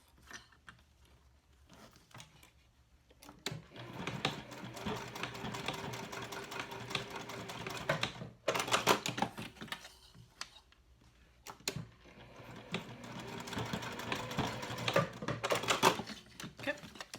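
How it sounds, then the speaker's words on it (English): A sewing machine top-stitches zipper tabs on a cork convertible clutch, whirring in fast bursts of stitching separated by short pauses and quiet handling noise. "I'm going to top stitch my zipper tabs down"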